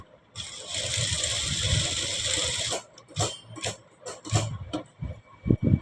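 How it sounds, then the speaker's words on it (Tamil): A sewing machine stitches along a fabric edge in one sustained close run, then stops, leaving short, irregular handling knocks and thumps. "டர்ன் பண்ணி எட்ஜி தையல் போடணும்."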